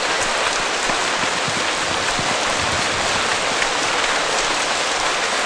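Steady rain pours down in Hyderabad, a dense, even hiss of drops hitting surfaces that stays loud and unbroken throughout, with no voices.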